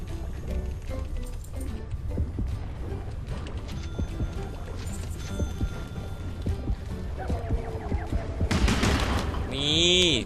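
Rapid bursts of underwater gunfire in the shark-diving video game Depth, sharp repeated shots over a murky, rumbling water ambience, ending with a rising whooshing sweep.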